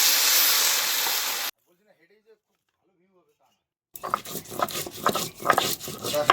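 Water hits frying taro curry with a loud steamy hiss that cuts off abruptly, followed by near silence and then clattering stirring and rubbing in the pan.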